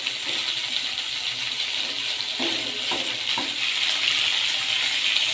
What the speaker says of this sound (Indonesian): Kita tambahkan air.